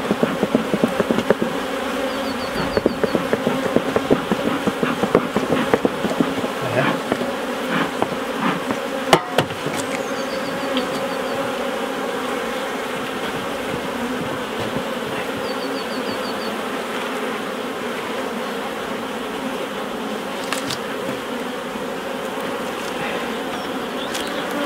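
Honeybees buzz loudly and continuously around an open hive during a UK beekeeping inspection, a dense steady drone close by with a few sharp knocks of equipment partway through.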